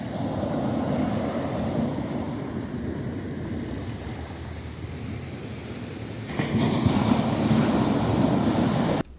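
Ocean surf washing onto a beach, a steady broad rush mixed with wind buffeting the microphone, growing louder near the end before cutting off abruptly.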